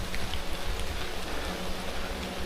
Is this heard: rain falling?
yes